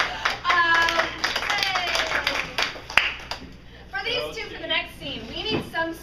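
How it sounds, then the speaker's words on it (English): A few scattered hand claps from someone on a stage, one sharp clap standing out, mixed in among continuous talking and voices. "I'll clap for you."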